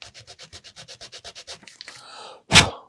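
The corner of a file scrapes wood for a 1:23 HMS Victory gun deck model in quick, even rasping strokes, about fourteen in a row, followed by a few scrapes and one louder knock.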